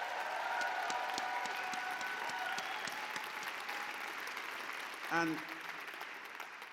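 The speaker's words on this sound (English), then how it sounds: "Please give them another round of applause." Applause fills the hall at a poetry slam final, a dense, moderately distant ovation that slowly fades, with a short spoken word near the end.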